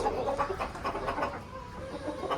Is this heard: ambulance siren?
no